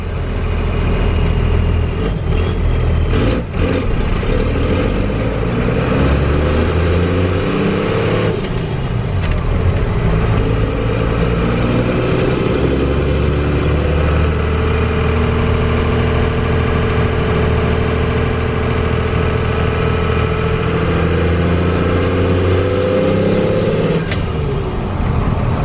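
Cummins diesel truck engine, shown with extended front shackles, revs up and down repeatedly in sweeping throttle bursts between stretches of rough idling, close and loud throughout with no talking.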